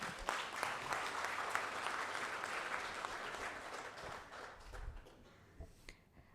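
Audience at a speech event applauding loudly, a dense sustained wash of clapping that thins out and fades toward the end, with a few scattered late claps.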